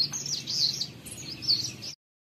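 An Arctic warbler gives a string of thin, high chirping calls, close and clear over a faint low background hum, then stops abruptly.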